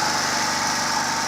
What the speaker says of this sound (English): generator is starting.